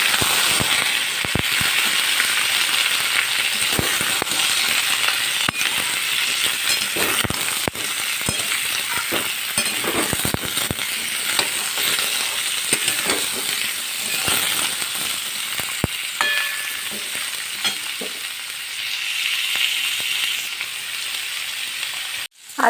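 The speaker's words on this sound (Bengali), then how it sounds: "দিয়ে ওলকপি আর আলুটাকে বেশ সুন্দর করে কিছুক্ষণ ফ্রাই করে নেব।" Kohlrabi and potato pieces fry in oil in a pan over a high flame. A steady, loud sizzle runs throughout, broken by occasional clinks and stirring scrapes, with no talking.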